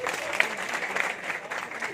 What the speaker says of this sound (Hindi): एक बार ताली हो जाए अपने सबके लिए, ताली हो जाए।